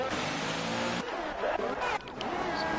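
An F3 race car on a wet track in Germany roars past at speed, its engine loud and droning with spray hiss, the pitch sweeping as it passes and continuing steadily throughout.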